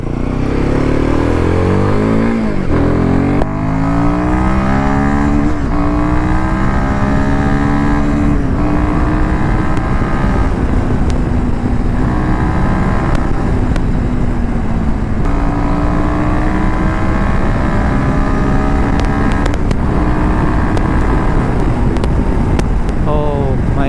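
A Royal Enfield Himalayan 450 motorcycle engine roars loudly and continuously, climbing in pitch through repeated hard accelerations with brief dips between gear changes.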